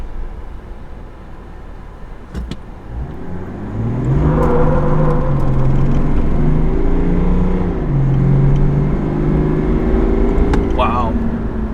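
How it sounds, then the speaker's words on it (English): A lifted Chevy Silverado 1500 Duramax diesel makes a zero-dig launch, engine pulling up strongly with rising pitch through quick upshifts, loud and close from inside the cab, with brief tire or road noise. "I talked myself into doing a zero dig to see. It's probably gonna spin"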